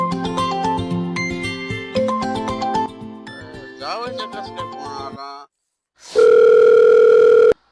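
Music plays, then falls silent. A loud, steady electronic telephone call tone follows for the last second and a half.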